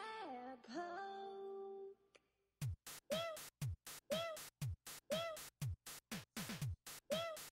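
Repeated cartoonish cat meows from the video game Cat Poke, about a dozen short bright calls in a quick regular rhythm, preceded by a sustained tonal game sound, loud and close with no talking.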